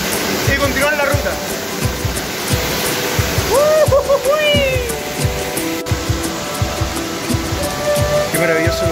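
A waterfall on a trekking trail near San Alfonso roars steadily like heavy rain, with high cat-like meows and chirps heard over the rushing water.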